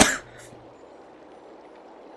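A single sharp cough bursts out at the start, loud and close, then fades quickly into quiet room background.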